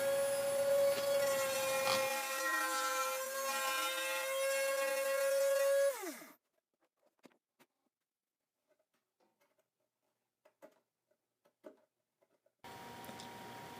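A Dremel with a router bit cuts through a double-thickness wooden soundboard on a guitulcimer build, a loud, high, whining grind that stops abruptly, leaving near silence with scattered light clicks before the tool starts up again.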